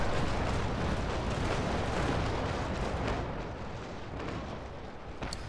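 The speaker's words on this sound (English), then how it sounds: "We can try and get a nice broadside." Broadside cannon fire from a 3rd Rate ship of the line in Naval Action, a dense, sustained roar of overlapping booms that fades slightly toward the end, with a sharp final crack.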